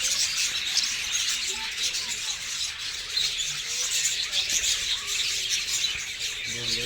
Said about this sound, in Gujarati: કેટલા સુંદર છે મિત્રો આ પક્ષીઓ